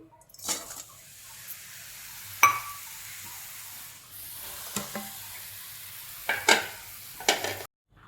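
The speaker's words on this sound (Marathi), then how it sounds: "बारीक करून तो गूळ आता मी कढईत टाकून घेते" Finely broken jaggery melting in a kadhai is stirred with a spoon, giving a soft continuous sizzle and several sharp scrapes and clinks against the pan, up close with no voices.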